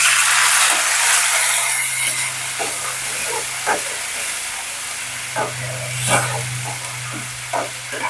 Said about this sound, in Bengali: এটা গরম হয়ে গেছে, এবার আমি কিছুটা জল দিয়ে দেবো,